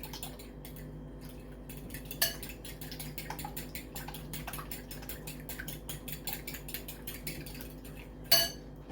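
Eggs are beaten in a bowl for country fried steak, with a quick, steady run of light utensil clicks against the bowl, a few sharper clinks, close and fairly quiet, no talking.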